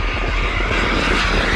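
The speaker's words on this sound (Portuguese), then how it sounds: "Este é um avião da Balada Eventos" Propeller airplane engine droning steadily and loudly, a continuous close roar with a rhythmic low throb and no voices.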